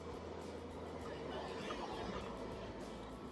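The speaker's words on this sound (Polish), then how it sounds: "Jedzie tramwaj." A steady rumbling rush of a number 14 tram passing close by in Poznań, broadband and continuous throughout with a low mechanical drone.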